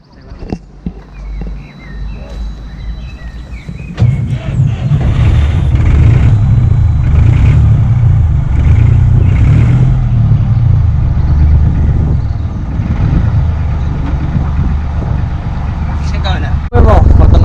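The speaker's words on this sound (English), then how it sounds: "I don't know if you can hear me through the engine and the wind" Narrowboat engine drones steadily and loudly while cruising, with wind buffeting over it after a quieter start and a person talking through the noise.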